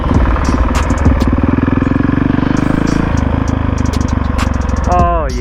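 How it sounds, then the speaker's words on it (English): A Honda CRF450R dirt bike engine riding off-road through a canyon, a loud, close, steady buzzing drone with a brief rise in revs near the end, while people talk over it. "We on the dirt bike."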